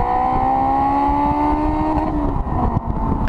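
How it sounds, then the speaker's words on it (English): Honda engine revving hard and close, a steady high-pitched drone climbing slowly in pitch, loud and continuous throughout with no voices over it. "this amazing revving engine"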